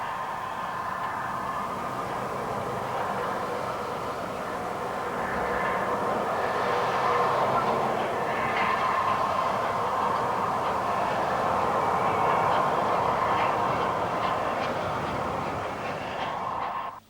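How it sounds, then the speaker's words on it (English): A steam locomotive, Jinty 47357, hauls a rake of historic carriages at a heritage railway centre, a steady rumbling and rolling noise that swells a little midway and holds for many seconds with no talk. "Ginty 47357 takes a selection of historic carriages back to Swanwick"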